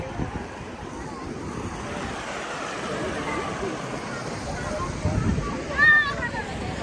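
A flowing stream at Al Hamda waterfalls gives a steady broadband rush of water, mixed with wind buffeting the microphone, as a voice talks over it.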